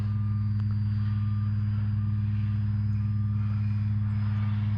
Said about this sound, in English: this is the second time that I've ever flown this plane